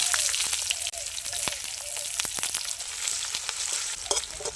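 Onions fry in hot oil with cumin, dried chilli and bay leaf, crackling in scattered sharp pops over a soft steady sizzle, fairly quiet and close, with no voices.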